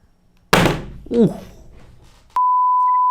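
A hard, sharp clatter as an Itel Power 80 phone hits the floor once in a drop test, a brief rebound, then a steady high electronic beep that runs for about a second.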